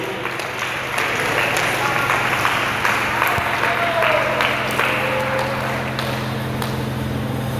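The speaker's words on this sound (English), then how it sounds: "If you are not a witch, please clap." Clapping from a church congregation during a sermon, a steady wash of many hands lasting several seconds under a low hum, with faint voices mixed in.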